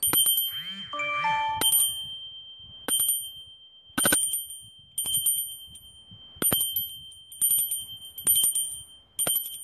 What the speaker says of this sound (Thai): ไปหากระดิ่งอย่างนี้มานะคะกระดิ่งเป็นทองเหลือง